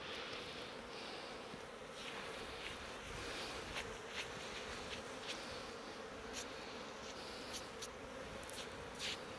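Bees buzzing around an open beehive during beekeeping, a steady dense hum filling the whole clip with small bursts of louder buzzing from insects passing close.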